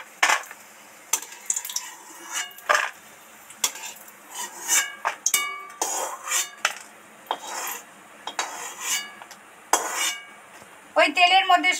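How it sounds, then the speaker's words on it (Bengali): A metal slotted spoon scrapes and clinks against a hot pan while lifting deep-fried peanuts out of the oil, close-up bursts of rasping and clattering separated by short pauses, ending in a busier scrape. "এবার ছাঁচা দিয়ে তেল ছেঁকে উঠিয়ে নেব।"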